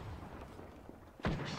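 A single sharp burst of weapon fire from Apex Legends, a short loud crack near the end after a stretch of low game ambience.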